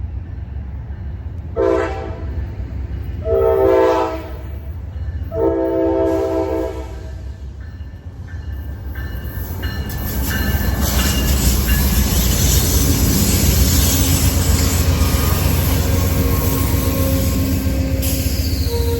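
An Amtrak P42 locomotive in Pepsi-can Phase 3 heritage livery, leading train 160 through Auburndale: three loud horn blasts, then a swelling rumble and clatter of wheels as the train rolls close past.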